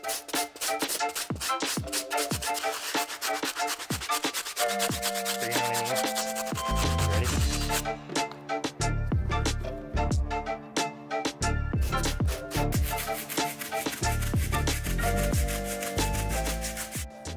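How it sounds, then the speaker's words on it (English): A stiff-bristled brush scrubs the outsole of an Adidas sneaker in continuous rasping back-and-forth strokes, close to the microphone, with steady tonal music playing underneath. "I hit the outsole using our stiff bristle brush"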